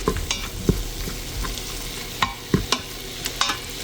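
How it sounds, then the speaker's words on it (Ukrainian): Minced meat sizzles steadily in a multicooker pot while a utensil scrapes and stirs with occasional sharp clicks, close by and without speech. "смажу ось так в мультиварці"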